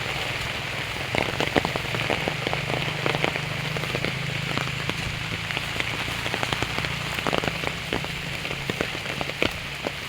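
Steady rain pattering on a surface during stormy, windy weather, with dense irregular drops tapping close by over a constant wash of noise, no voices.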